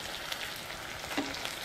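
Chopped onions and green chillies frying in hot oil for a red cabbage curry, giving a faint, steady sizzle with no talking.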